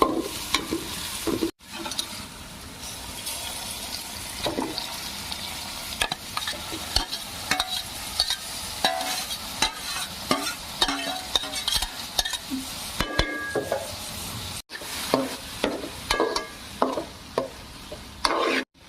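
Leafy greens being stirred and fried in a pan for a village-style palya, with a steady sizzle, repeated scraping and clinks of a spatula against the metal pan, and short pauses in the stirring.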